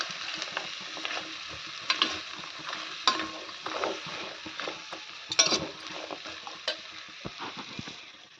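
Food sizzling in a pan while being stirred and mixed, with sprouted legumes and grated coconut, steady frying hiss broken by repeated scraping strokes and light clinks of the spoon against the pan.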